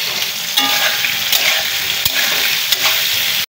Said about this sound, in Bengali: এখন ওই তেলে এই যে উস্তেগুলো লাল লাল করে ভাজি করে নেব